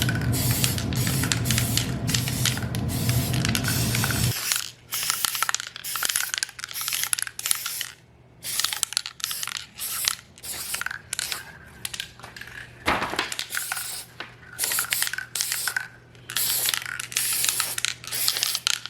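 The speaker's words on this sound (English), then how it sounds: "I'm adding a few light coats of metallic antique gold spray paint" Repeated bursts of metallic antique gold aerosol spray paint hissing close up in light coats, short sprays separated by brief pauses, with a longer continuous spray at the start.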